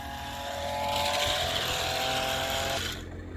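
Remote control stunt car driving, its small electric motor giving a steady high whine with a faint hum beneath, fairly close and alone, cutting off near the end.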